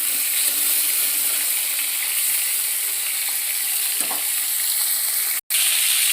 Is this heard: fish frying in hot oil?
yes